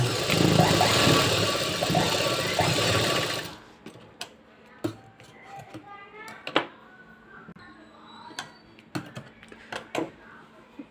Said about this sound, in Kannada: ನಾನು ತ್ರೀ ಇಂಚಸ್ದು ಎಕ್ಸ್ಟ್ರಾ ಫ್ಯಾಬ್ರಿಕ್ ಕಟ್ ಮಾಡ್ಕೊಂಡಿದ್ದೀನಿ ಅದನ್ನು ಈ ಥರ ಸ್ಟಿಚ್ ಮಾಡ್ಕೊಳ್ತಾ ಇದ್ದೀನಿ